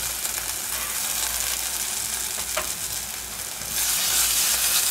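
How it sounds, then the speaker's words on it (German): Onions and tomato paste fry in a pan for a homemade gyros skillet, a loud, steady close-up sizzle that swells brighter toward the end while being stirred. "Ein bisschen mit anrösten schön."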